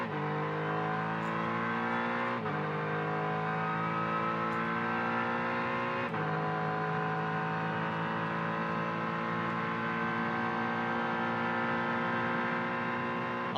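GT race cars at speed on the Virginia International Raceway circuit in the GT World Challenge America series, a loud continuous engine drone with rising and falling revs and gear shifts, no talking.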